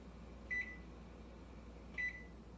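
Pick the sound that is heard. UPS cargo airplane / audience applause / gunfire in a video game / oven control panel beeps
oven control panel beeps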